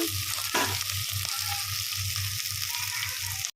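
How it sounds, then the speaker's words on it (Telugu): Onions sizzle steadily in hot oil in a pan, a dense continuous hiss broken by a few louder crackles and stirring bumps, close and alone with no talking. "ఇట్లా ఉల్లిగడ్డ కూడా మంచిగా ఫ్రై అయింది"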